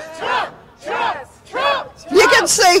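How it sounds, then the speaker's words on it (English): A big crowd at a Trump rally chants in loud, rhythmic bursts, four swelling shouts about half a second apart, the last one wilder and mixed with whoops and yells. "This is a tremendous crowd"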